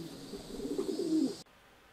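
Pigeons in a homing-pigeon loft flock cooing, with soft murmuring coos that swell over about a second and a half and then cut off abruptly, leaving quiet background hiss.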